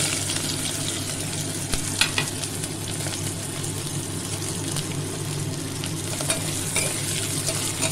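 Onion and grated coconut frying in hot oil with black cumin seeds and green chillies, a steady dense sizzle with occasional stirring clicks, close and continuous throughout.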